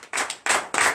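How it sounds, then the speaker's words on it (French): A church congregation at a Beninese morning prayer service claps in acclamation, three loud bursts of hand-clapping in quick succession, close and dense, with no talk over it. "Donnez l'acclamation à Jésus"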